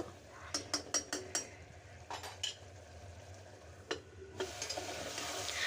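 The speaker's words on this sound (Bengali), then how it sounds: "তো আমি মশলাটাকে এখন একটু ভালো করে কষিয়ে নিব" A spice masala with coriander powder and salt is stirred in a pan, with soft sizzling and repeated sharp clinks of a spoon against the metal. The scraping comes in quick bursts and stays fairly quiet.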